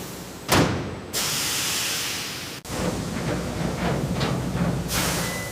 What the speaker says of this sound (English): Steam peeling removes the potato skin with remarkable efficiency.